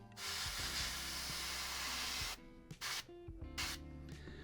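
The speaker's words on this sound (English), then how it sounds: "you don't want to just spray the whole model" Airbrush spraying paint onto a model vehicle in a steady, close hiss for about two seconds, then short on-off bursts of spray with a faint low hum underneath.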